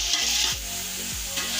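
Tomatoes cook down in a pan for aloo chicken palao, giving a dense, even sizzle up close, with a soft scrape or two of a spoon and no voices over the short stretch.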